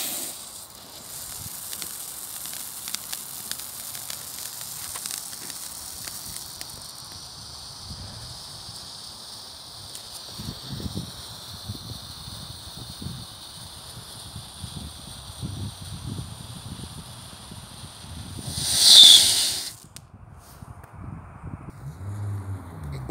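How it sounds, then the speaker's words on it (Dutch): A fountain firework hisses outdoors, a long, steady, high sizzling spray that runs for many seconds, with a brief louder burst near the end and faint crackles underneath. "Fonteintje."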